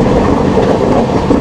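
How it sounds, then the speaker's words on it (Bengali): A train entering NJP station makes a loud, steady rumble of wheels and carriages nearby, a continuous dense roar with no talk. "তো আমাদের ট্রেন এখন এনজিপিতে ঢুকছে"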